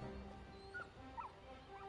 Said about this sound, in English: Dog! Quiet, Toggle. Stop it, boy.